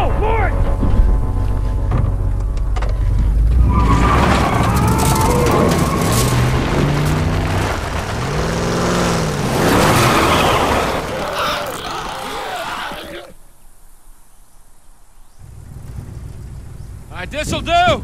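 A truck engine runs and drives in The Last of Us, a steady low rumble with wind- and rain-like noise, heavily overlaid by voices talking, then dropping away briefly before returning near the end.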